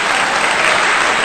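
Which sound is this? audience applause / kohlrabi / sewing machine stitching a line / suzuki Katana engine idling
audience applause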